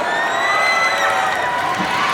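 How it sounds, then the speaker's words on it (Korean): A crowd at an outdoor Red Velvet fan event at Lotte World cheers and whoops steadily in a dense, continuous roar, with scattered applause blended underneath, fairly far off. "멋진 무대 보여준 우리 레드벨벳 여러분들 다시 한번 뜨거운 박수 부탁드리겠습니다."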